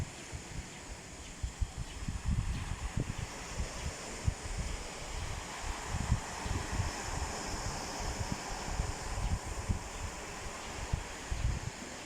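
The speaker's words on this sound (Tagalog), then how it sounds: "Ayan o, mahangin siya." Gusting wind at Talaonga beach in Sta Magdalena, Sorsogon buffets the microphone in low rumbling bursts over a soft, continuous wash of surf and rustling.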